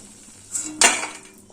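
Fried lentil bori are lifted from hot oil with a metal utensil: a faint scrape, then one sharp clink against the pan, with a soft sizzle trailing off.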